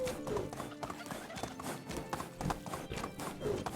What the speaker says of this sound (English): it was just extreme donkey riding right there, over the cliffs and over the edges